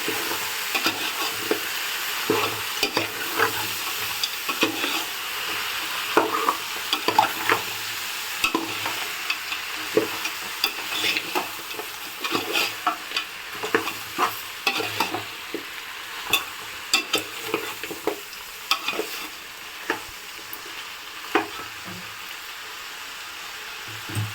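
Goat head curry frying in hot oil in a Hyderabad-style home kitchen, a steady sizzle broken by repeated scraping stirs of a spoon against the pan, close and moderately loud, with no talking.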